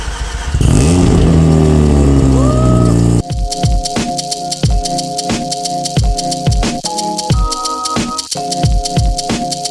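A 25-year-old Mazda RX7 starts with a loud rising roar, then settles into a choppy, pulsing idle with rattles and throttle blips as it pulls out, close and loud.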